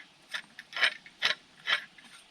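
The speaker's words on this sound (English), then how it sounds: "Now, it's got a steel tube handle, right? And you just unscrew this handle a bit." Steel tube handle of an iunio survival shovel being unscrewed, producing four or five quick metallic ratcheting clicks, close and fairly quiet.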